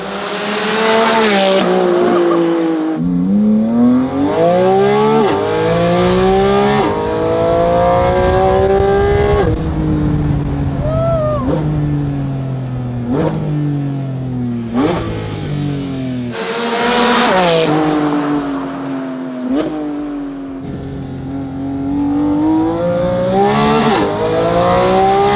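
Porsche GT4RS with a Fabspeed exhaust, loud and close, revving hard through repeated rising acceleration pulls with shifts between them and a sharp, raspy howl that peaks and drops, occasional brief tire squeal.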